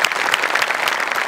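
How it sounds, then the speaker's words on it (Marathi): Audience applause on the set of the Marathi comedy show Maharashtrachi HasyaJatra after a performance, a dense, steady burst of many hands clapping, loud and close throughout the short moment with no talk over it. "टाळ्या"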